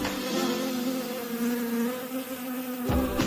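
Bees swarm around a beehive in a dense, continuous buzzing drone, close and steady, with a few brief louder passes near the end.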